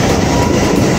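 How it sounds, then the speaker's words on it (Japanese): A Keikyu local train pulls out of Mabori-Kaigan station, a loud, close, dense rumble of wheels and motors filling the whole moment. "普通列車ね発車していきますけど"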